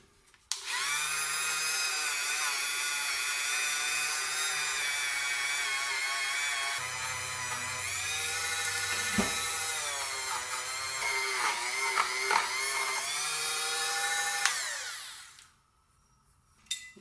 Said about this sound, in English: So I'm gonna take the Dremel with like a buffing wheel